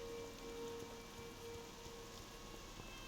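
Steady rain in the World of Warcraft Classic weather system around Stormwind City, a continuous soft hiss of falling drops with a faint tonal hum underneath, even and unbroken throughout.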